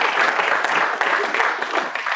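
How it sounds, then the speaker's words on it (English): Audience applause at an evening Guru Puja program, steady dense clapping sustained throughout at moderate loudness, with a few louder individual claps near the start and middle. "Applause for them."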